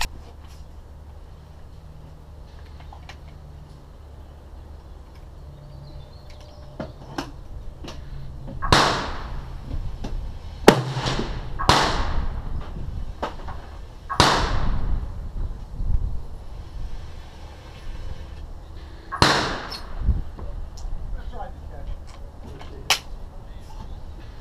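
Springfield Trapdoor rifle shots from improved loads, about five loud sharp reports spaced a few seconds apart outdoors, each a crisp crack with a brief echoing tail over low background noise.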